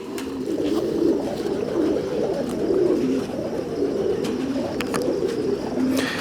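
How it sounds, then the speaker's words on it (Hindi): Pigeons coo continuously in low, rolling murmurs, close and fairly loud, with a few faint chirps and rustles mixed in. "जैसा कि फैसल भाई मैंने बताया कि ये मिस्त्री साहब वाले बिल्कुल प्योर हालत में कबूतर हैं"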